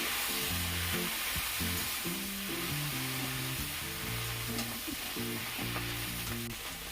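Bottle gourd leaves sizzle and fry steadily in hot oil with black cumin in a pan, a continuous close hiss with faint music underneath.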